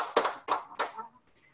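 A short burst of hand claps from a group at a Buddhist end-of-life chanting seminar: three distinct clap clusters, fairly close and moderately loud, then fading quickly into quiet.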